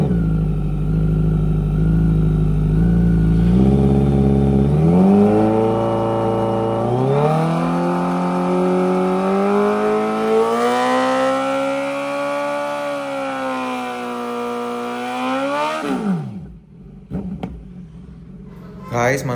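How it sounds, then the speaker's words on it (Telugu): A Kawasaki Z900 motorcycle with a 200-section rear tyre holds a long, loud engine roar during a short burnout, revs climbing and wavering before cutting off abruptly near the end. "మనమైతే ఒక చిన్న బర్న్ అవుట్ చేసినాము"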